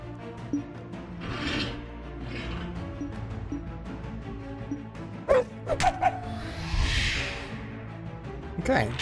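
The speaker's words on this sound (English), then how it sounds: "the orc hounds, I should call them. They weren't dogs." Orc hounds in The Warlock of Firetop Mountain video game bark, yip and whimper in several uneven bursts, with sharp clattering hits and a wash of game noise midway.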